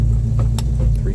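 A 1973 Ford Mustang Mach 1 with a 351 Cleveland Cobra Jet V8 and automatic transmission drives along, giving a steady low engine rumble with a brief voice over it.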